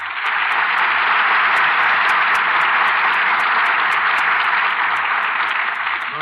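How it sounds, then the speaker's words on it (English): A studio audience at a Lux Radio Theater broadcast applauds loudly and steadily after a radio play, a dense, even wash of clapping that holds for about six seconds with no talk over it. "here are our stars who certainly deserve your applause"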